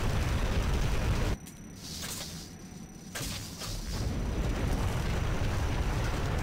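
Explosions rip through a Nod airstrip under attack in the Renegade video game: a loud, continuous blasting roar that drops to a quieter rumbling stretch partway through, then swells back to full force.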